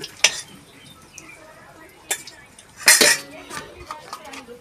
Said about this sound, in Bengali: এখন কাকিমা আলু ভাজছে বন্ধুরা।